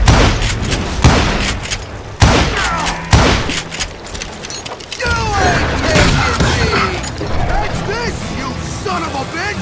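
Gunfire in the western video game Call of Juarez Gunslinger, several loud sharp shots and booms in the first half, followed by clattering and creaking action sounds with character voices shouting over them.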